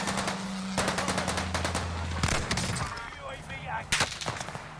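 Rapid automatic gunfire in Warzone on the Pacific Caldera map, dense bursts of many shots with a sustained engine-like hum beneath, loud and close, with faint voices occasionally in the mix.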